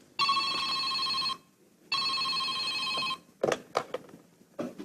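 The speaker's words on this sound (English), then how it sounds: "Ringing the police department." A telephone bell rings twice in long, bright bursts with a pause between, as a radio play sound effect, followed by a few short clicks and knocks.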